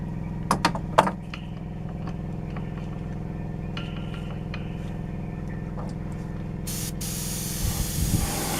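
Spray paint hisses onto a Tamiya 1/12 scale Yamaha YZR M1 '09 model in light coats, a steady close hiss after a few sharp clicks at the start, rising to a brighter burst near the end.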